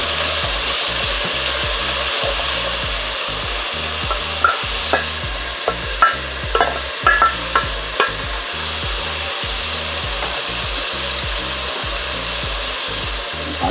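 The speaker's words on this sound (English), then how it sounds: "Adding the carrot and onions now." Carrot and onions fry in a pot for a Jamaican pumpkin carrot rice, a steady sizzle broken by rhythmic scraping strokes of a utensil and a few sharp clinks against the pot, close and without talk.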